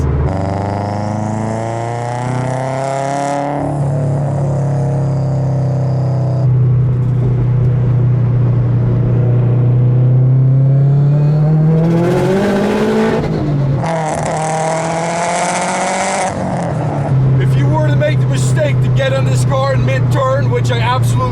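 A 500hp 2008 Subaru WRX cruises at about 60 mph, its low engine drone and road rumble steady underneath, with occasional shifts and swells, while a person talks throughout.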